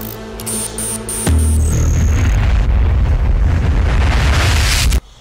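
An explosion in the DOOM video game erupts suddenly into a loud, roaring broadband blast that rumbles steadily for several seconds before cutting off abruptly, with no voices.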